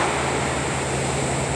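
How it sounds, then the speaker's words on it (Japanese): Steady broadband wash of ocean surf breaking on a shore, continuous and fairly loud with no distinct individual wave crashes standing out, alone without voices. "波の音をバックに撮影していると"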